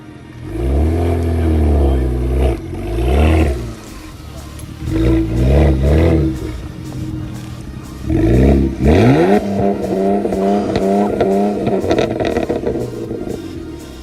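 Car engine revving hard, then held steady at a fixed RPM by launch control, with clutch in and first gear selected; loud repeated rises and a sustained drone, with people talking over it.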